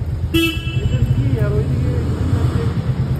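A car horn gives one short, loud honk in heavy traffic on the way to a crowded venue, followed by engine rumble and road noise. People talk loudly nearby throughout.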